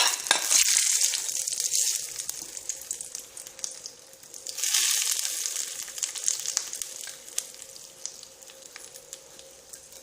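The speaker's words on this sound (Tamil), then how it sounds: "இப்போ நம்ம தாளிச்சதை எடுத்து இந்த சட்னியில்" Mustard seeds, urad dal and curry leaves crackle in hot oil for a large-onion chutney tempering, a loud, steady sizzle with brief surges and stirring, no voices.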